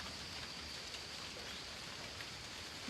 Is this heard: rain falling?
yes